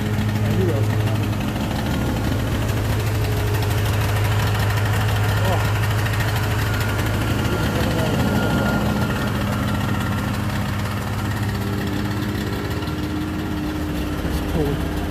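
Two-stroke car engine idling right after a cold first start, a steady low rumble running throughout at close range with voices talking over it.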